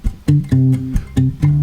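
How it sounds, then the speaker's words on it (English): Short fingerstyle guitar bass line played pizzicato in a cover of a song: four muted, plucked low notes in a quick rhythmic pattern, close and clear, alone. "Pizzicato is a technique we use in order to make the bass sound like this"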